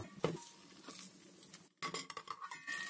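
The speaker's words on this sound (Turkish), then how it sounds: "Şimdi üzerine kapağını kapatarak ters çevireceğim." Metal lid set onto a pan and the pan turned over while cooking a dough on the stove, giving several sharp clinks and clatters of metal with brief scraping and short pauses between.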